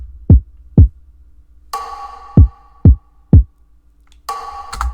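Soft kick and snare percussion pattern programmed in FL Studio for a pop ballad: low thumping kicks alternate with gentle, airy snare hits in a steady, sparse rhythm, quiet and set back, with no voices.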